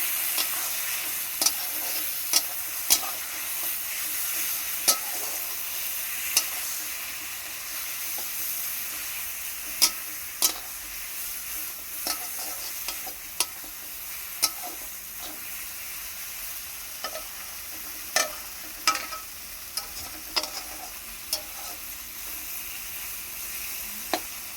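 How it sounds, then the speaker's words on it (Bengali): Spice masala sizzles and fries in a pan with a steady hiss, broken by repeated sharp scraping strokes of a spoon stirring it, close and without talk. "এবার ভালোভাবে ভেজে নেব। অল্প জল দেব, ভালো করে কষিয়ে নেব মশলাকে।"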